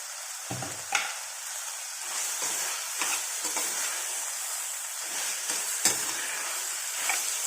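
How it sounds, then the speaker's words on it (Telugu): Greens and fenugreek leaves frying in a pan while being stirred: a continuous close sizzle broken by repeated scraping stir strokes, with no talking. "ఇప్పుడు కలిపేద్దాం"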